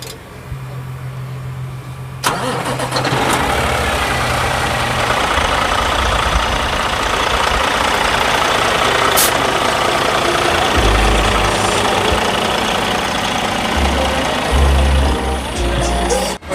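A semi truck's diesel engine cranks quiet for about two seconds, then catches and idles with a steady, loud low rumble and faint knocking, running alone without talk.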